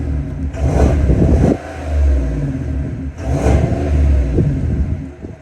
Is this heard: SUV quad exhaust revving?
yes